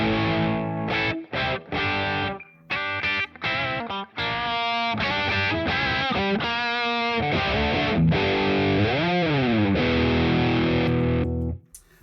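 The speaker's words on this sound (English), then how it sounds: "with the volume control, I'm rolling it back down to overdrive." Electric guitar played through stacked overdrive and distortion pedals, a loud, continuous saturated tone with chugging chords and sustained notes, including a bending lead phrase, alone without talk.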